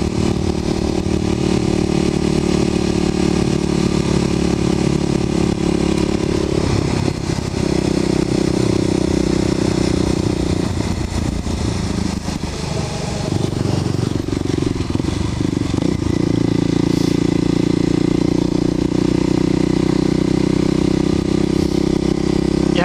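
A Kawasaki KLX250sf motorcycle rides along a bumpy country road. Its engine drones loud and steady for the whole stretch, rising and falling with the throttle under constant wind rush, with no voices.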